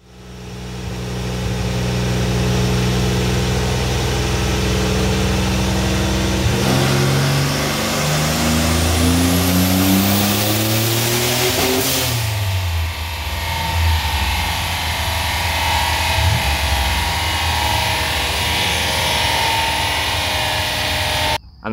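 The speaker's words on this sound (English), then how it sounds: "And then we're going to get right into the dyno pulls." A turbo-swapped Nissan Z31 revs hard on a dyno, the loud engine note climbing steadily through a pull, dropping sharply, then settling to a rough idle. No voices are heard.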